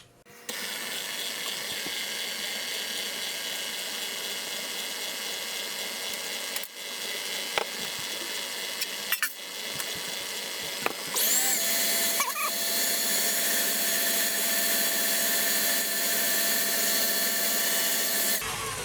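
A stand mixer with a paddle beats butter, sugar and batter for a German chocolate cake, a steady mechanical motor whir with faint clicks that continues without a break and grows slightly louder partway through.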